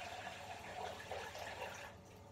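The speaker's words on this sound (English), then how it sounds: "Make a jug of water." Water running from a tap into a jug in a bathroom, a steady close splashing rush that cuts off near the end.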